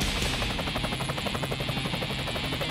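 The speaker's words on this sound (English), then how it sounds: "I'm a crew chief on the Black Hawk helicopter." A Black Hawk helicopter flies during sling load operations, its rotor beating in a loud, fast, steady chop close to the microphone with no voices.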